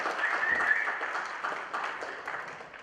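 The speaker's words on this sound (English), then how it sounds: "Round of applause." A room full of diners at a sportsman's dinner auction in Queensland breaks into sustained clapping, a dense, steady patter that tapers off slightly toward the end.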